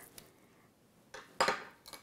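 A kitchen knife and cutlery clink and rattle against dishes while an Italian grandmother prepares garlic for a roasted leg of lamb, a few short metallic knocks with one louder clatter near the end.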